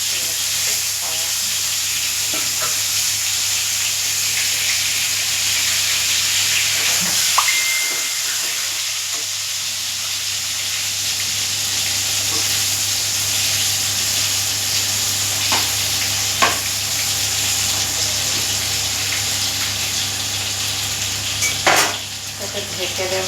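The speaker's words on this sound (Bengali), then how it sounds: "কড়ার তেল গরম হয়ে গেছে, বেগুন ভেজে নেব।" Eggplant slices fry in hot oil in a kadai for a home lunch, a continuous close sizzle with occasional sharp clinks of a spatula stirring against the pan over about twenty seconds.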